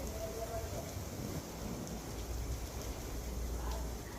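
Steady heavy rain with gusty winds hisses across the whole clip in Veraval, Gujarat, a dense broadband wash with a low rumble underneath and no clear voices.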